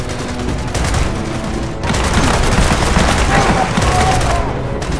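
Dense, continuous gunfire rattles loudly throughout a Gears of War 4 firefight, with rapid automatic bursts and booming impacts layered close together.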